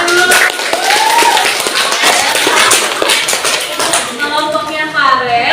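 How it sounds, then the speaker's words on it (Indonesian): A group of students claps together during a classroom anti-bullying presentation, producing a dense, continuous patter of hand claps with voices calling out and chattering over and under it. "Oke, tepuk tangan dulu."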